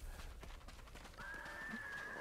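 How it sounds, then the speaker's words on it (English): A horse whinnies in the Ghost of Tsushima video game, a sustained high neigh rising out of a busy game soundscape with hoof-like clatter and ambient noise. "Oh, I see a horse."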